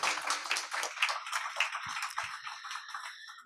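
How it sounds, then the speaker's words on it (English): Audience clapping at a Board of Deputies meeting, a faint, steady patter of many hands heard from a distance for a few seconds. "Everyone's clapping"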